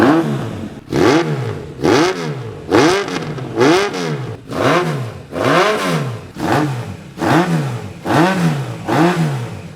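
A custom Yamaha XJR1300 motorcycle engine revs hard up close, about nine loud, evenly spaced blips that each rise and fall in pitch, with no talk.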